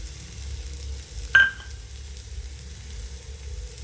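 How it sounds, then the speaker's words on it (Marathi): A kurdai vegetable dish sautés in a pan with a soft, low sizzle, broken by a single sharp metallic clink of a spoon against the pan partway through. "असं परतून घेऊया भाजीला."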